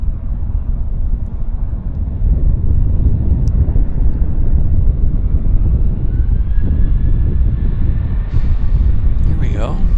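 A WestJet airliner takes off at Vancouver airport, a broad, loud engine roar that holds steady and then swells as the jet powers down the runway.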